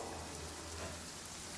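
Steady, dense rain hiss from a skill effect in the video game Genshin Impact, a continuous wash of falling rain with no pauses or voices.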